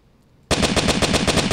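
Rapid automatic machine-gun fire from the Flash game Interactive Buddy bursts in after a short quiet lead-in, then rattles on loud and steady in quick regular shots.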